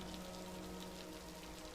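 Steady rain falls in a dark audio drama scene, a dense, even hiss of drops and patter with no pauses and no other sounds.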